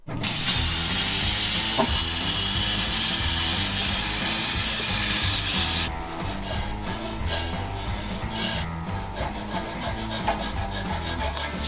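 Saw cutting a circle out of a 1 1/4 inch thick piece: loud, steady rasping and grinding for about six seconds, then stopping abruptly and giving way to quieter scraping, knocking and handling sounds.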